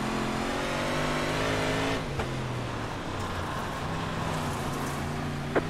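Race car launching off the start line at Weedsport drag racing: a steady loud engine drone with rising harmonics as the car pulls away, ending in a brief sharp pop, no speech.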